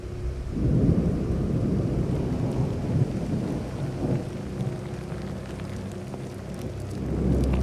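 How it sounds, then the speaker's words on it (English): Heavy rain pours steadily in a powerful thunderstorm, with deep rolling thunder rumbling through loudly near the start and swelling again at the end. "This has now created a storm that is much more powerful."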